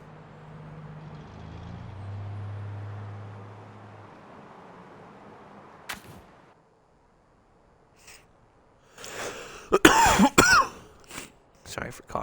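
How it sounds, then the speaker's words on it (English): A person coughs and clears their throat straight into a headset microphone, several sharp close bursts in quick succession after a quieter stretch with a low tone and a single click. "Sorry for coughing into my headset."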